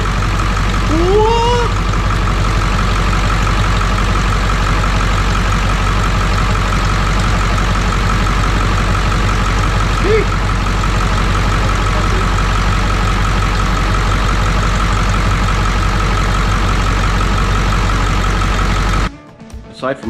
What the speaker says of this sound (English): Anyway, success, truck's running. Very happy to hear that noise.